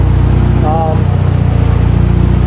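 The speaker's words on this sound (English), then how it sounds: "it's idling by itself" A Mitsubishi Lancer Evolution 8 engine idles steadily on its own, a low, even rumble that holds throughout with no revving, and a brief voice is heard over it.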